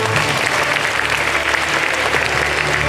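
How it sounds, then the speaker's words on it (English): An audience claps together at an awards ceremony, a dense, sustained round of applause throughout, loud and fairly close. "the surrounding should echo with your claps"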